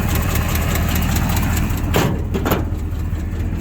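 A 1972 International Loadstar dump truck with a 392 V8 idles loud and close, a steady low rumble with a brief clatter partway through.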